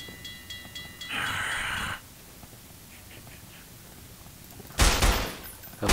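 Gunfire at zombies in the video game Estranged: Act I comes as two bursts of shots, one around a second long and a later louder one. Low ambient game noise fills the gap between them.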